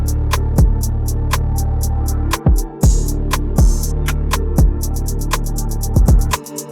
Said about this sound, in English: It uses the sub bass that I made before instead of an 808